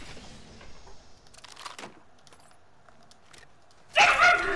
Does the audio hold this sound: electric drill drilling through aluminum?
no